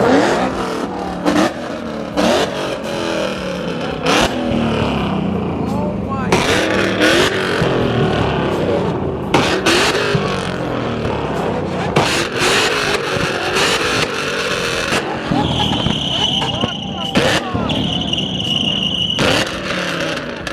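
A supercar accelerating along a rain-soaked highway in Mexico during a street takeover, repeated loud engine revs and roaring bursts with passing vehicles, while excited voices talk and shout close by throughout.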